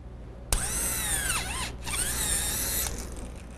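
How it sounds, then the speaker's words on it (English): A cordless drill turning a 25/64 reamer inside a metal tube whines loudly, starting abruptly, dipping in pitch under load, briefly pausing, then spinning up again before stopping. "I take a 25/64 reamer and a cordless drill and I ream the inside of the tube out"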